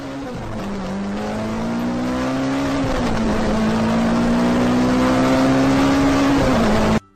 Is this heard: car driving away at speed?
yes